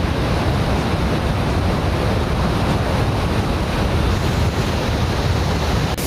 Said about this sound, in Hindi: नदी का पानी का वेग देखिए।